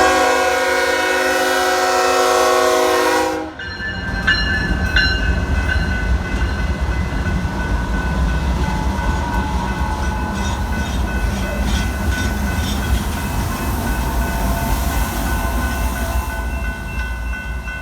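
A train passes close by, starting with a long, loud horn blast that cuts off, then a steady heavy rumble of rolling railcars with faint clickety-clack that continues to the end.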